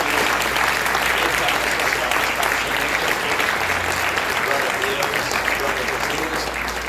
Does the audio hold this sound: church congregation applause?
yes